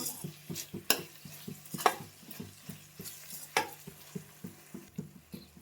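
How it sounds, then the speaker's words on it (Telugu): A spoon stirs a tomato and broad bean curry in a pan with a steady run of scraping, knocking strokes about twice a second over a soft sizzle, close and fairly quiet, with no talking. "ఇప్పుడు చూసి కలుపుకోవాలి మధ్య మధ్యలో ఇట్లా"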